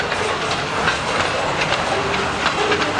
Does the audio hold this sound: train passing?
yes